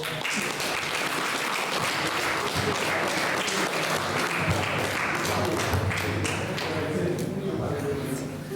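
Audience applause at a poetry event, a steady wash of clapping from a crowd lasting throughout, moderately loud with some scattered voices mixed in.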